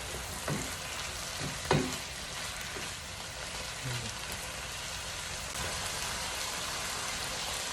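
Beef with bitter gourd frying in a pan with onion, a low steady sizzle under a couple of spatula knocks and scrapes from stirring, fairly quiet and close.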